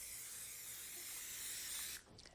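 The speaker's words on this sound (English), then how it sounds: "we spritz them with some cooking spray" A steady hissing spray of cooking oil for about two seconds, close and even, stopping abruptly near the end.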